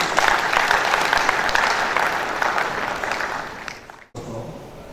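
A conference audience at the NIESV 49th National Conference applauds as a speaker takes the podium. Steady, full clapping fades after about four seconds, then a brief quieter patch follows.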